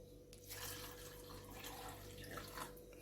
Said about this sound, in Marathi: मी एक ग्लास पाणी टाकतो आहे